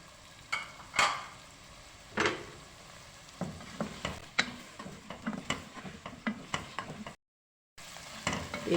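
Cauliflower and mixed vegetables stirred and fried in a pan for pulao: steady soft sizzle under repeated scraping and clacking of a spoon against the pan, near and irregular, with a brief silent gap.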